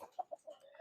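A chicken clucks in short bursts, several quick clucks close by, with a rising squawk at the end.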